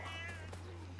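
A short cat meow in Assassin's Creed III, faint and brief over a steady low hum and soft game ambience.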